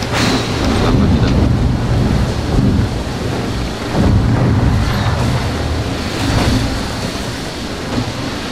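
A heavy storm roars close by, with dense rain and wind and deep thunder rumbling through it, loud and continuous with swelling peaks.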